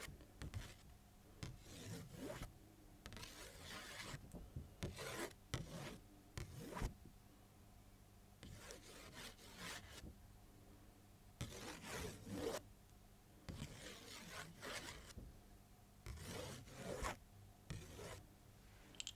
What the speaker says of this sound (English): So I'm going to write a word on each.